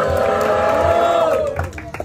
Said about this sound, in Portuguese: Pra quem terminou, com muita energia, barulho para as rimas do Rubi.